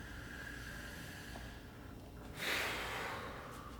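A single deep breath during a morning stretching routine: a quiet inhale followed by a louder, rushing exhale close to the microphone, with soft background tones.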